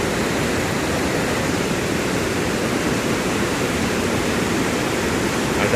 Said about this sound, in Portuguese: Essa é uma das cachoeiras que tem na nossa região.